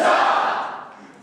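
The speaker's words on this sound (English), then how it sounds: "So let's give them a great cheer." Youth kickoff event crowd gives a short, loud cheer that swells at once and then fades away over about a second.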